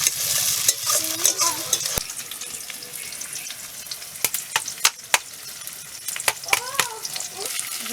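Tomatoes frying in a pan for fried rice and chicken, stirred with sharp spoon clinks and scrapes over a steady loud sizzle that softens midway, with no talk.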